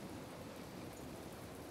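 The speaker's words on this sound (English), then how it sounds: "The rain's going to add a little bit of visibility problems here, clearly." Steady, quiet rain falls as an even hiss with no pauses in an outdoor scene from the Planet Explorers video game, Alpha 0.72, Adventure Mode.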